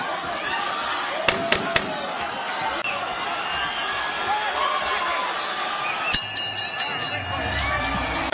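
A boxing crowd at Madison Square Garden roars steadily in the background of a bout, with sharp slaps of punches and a commentator talking over the noise.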